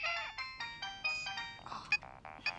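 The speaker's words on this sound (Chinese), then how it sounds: "别总是开会的时候这个手机此起彼伏的响，好不好？" A mobile phone ringtone chimes in short, bright melodic bursts during an office meeting, repeating steadily and fairly close with no talk over it.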